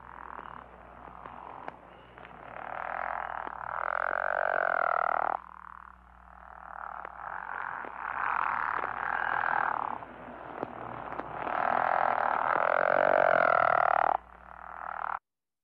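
A leopard-frog-like call repeats in long, rasping, snore-like bursts, loud and close, with brief pauses between calls.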